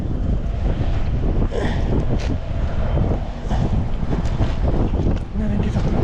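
Strong wind buffets a small fishing boat at sea, roaring steadily and close against the microphone with water sloshing beneath, while faint voices come and go under the gusts.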